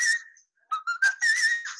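A singer sings in whistle register, a run of very high, pure, piercing sung notes in short bursts and sustained tones, with a brief pause partway through and no talking.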